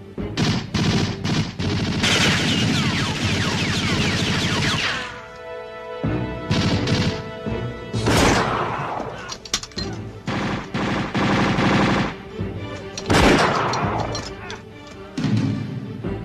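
Loud bursts of rapid gunfire in a Tagalog action movie come in waves, with sharp cracks and crashing impacts and shouted voices between the volleys.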